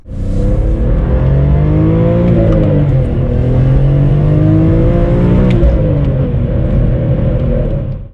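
A loud E46 BMW M3 engine revs continuously toward its 7,900 rpm limit, its pitch rising and falling through the gears, dominating the whole stretch with no voices.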